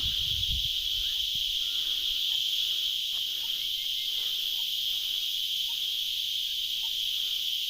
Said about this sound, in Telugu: చూడవండి అడవి కీటకాలు ఎలా శబ్దం చేస్తున్నాయో